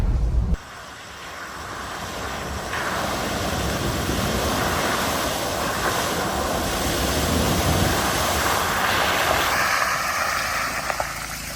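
Mahindra Thar pushing through deep water, a sustained rushing splash and surge after a brief sharp onset, loud and close, with wind buffeting the microphone and no talk.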